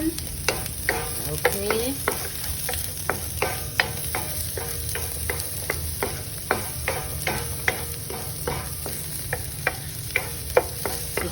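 Onions and spring onions sauté with garlic in a pan for tuna fried rice: a steady low sizzle broken by frequent sharp spatula scrapes and knocks, close and fairly loud, with one brief spoken word.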